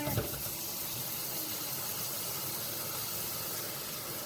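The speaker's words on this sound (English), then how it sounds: "I'm gonna rinse this off just a hair" Running water rinses scoured cotton yarn, giving a steady broadband hiss and splash from a tap close by, continuous and unbroken with no talk.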